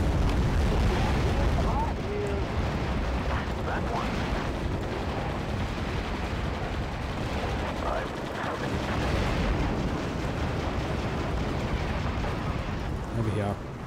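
Bombers dropping bombs in the real-time strategy game Act of Aggression, a continuous barrage of booming explosions and gunfire rumbling loud and dense throughout.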